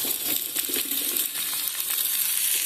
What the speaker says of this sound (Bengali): প্রথমে শক্ত সবজিগুলো দিয়ে একটু ভেজে নিই